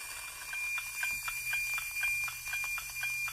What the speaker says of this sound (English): that's the data I'm receiving from the satellite, and I'm recording it